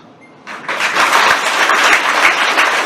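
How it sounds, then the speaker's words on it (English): An audience of first-year BTech students bursts into applause at an orientation after a brief quiet moment, many hands clapping steadily and loudly, sustained to the end. "I want all of you to clap."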